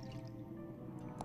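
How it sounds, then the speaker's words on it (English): Faint water trickles and drips from a turned faucet in the Fran Bow video game, a short, quiet liquid sound over a low ambient hum. "Turn the faucet. Ah, there's the water."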